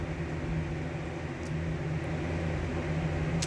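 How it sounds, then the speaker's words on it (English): An electric fan runs steadily in a room, a constant close whooshing hum with no change in level, heard alone. "Sorry about the fan."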